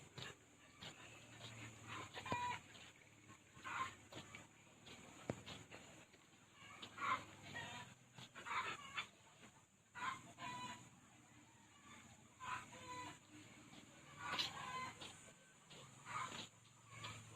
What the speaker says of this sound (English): Chicken so noisy.